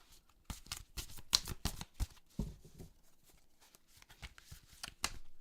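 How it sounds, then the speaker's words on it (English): Tarot cards are shuffled by hand in short bursts of riffling and flicking, quick crisp clusters separated by brief pauses, close and clear with no talking. "Just going to be shuffling a little bit."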